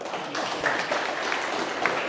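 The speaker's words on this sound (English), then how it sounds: "Big round of applause from Alec Heroes." An audience at a downtown Denver transit forum gives a round of applause, a soft, even spread of clapping running through the whole moment.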